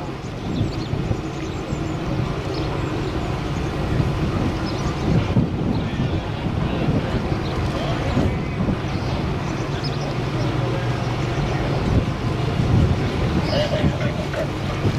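A steady narrowboat engine drones throughout as the boat turns on the Union Canal near Falkirk, Scotland, with wind and water noise over a low rumble, and some voices faintly in the background.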